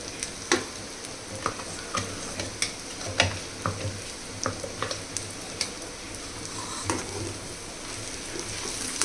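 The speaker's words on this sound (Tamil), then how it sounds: "நம்ம அரைச்சி வச்ச மசாலா இது போட்டு நல்லா வதக்கிக்கோங்க." Ground masala being sautéed in a pan for mutton curry, a continuous close sizzle with repeated light scrapes and taps of a spatula stirring at an uneven pace.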